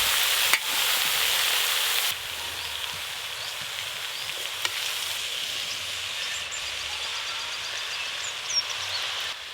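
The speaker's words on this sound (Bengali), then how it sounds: "এবার ওই ওপর দিয়ে কেটে ধুয়ে রাখা বেতো শাকগুলো দিয়ে দেবো।" Bathua greens being stir-fried with potato and eggplant in a pan, a steady close sizzle and frying hiss that runs continuously, dipping slightly after a couple of seconds, with no talking.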